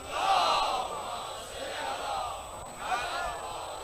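A large gathering at a religious talk in Pakistan recites salawat together in a loud, swelling chorus of voices that rises in a few waves and fills the whole stretch.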